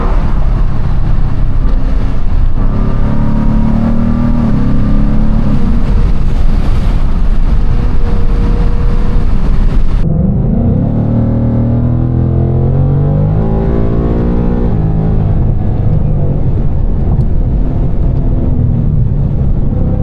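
Ford Mustang being driven, a loud continuous engine and road roar with wind buffeting throughout, the engine note shifting after a brief change midway.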